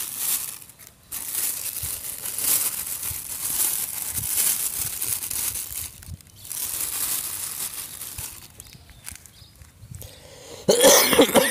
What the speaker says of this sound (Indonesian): Sorry, guys, batuk